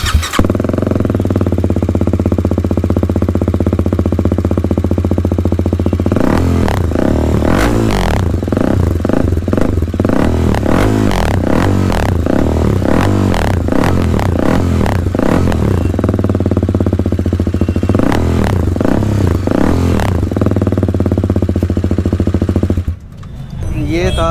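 A TVS Apache RR 310 motorcycle with an aftermarket exhaust idles loudly, then revs hard in repeated sharp throttle blips, close and dominant, before cutting off near the end.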